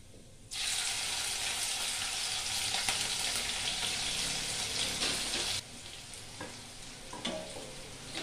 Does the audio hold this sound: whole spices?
yes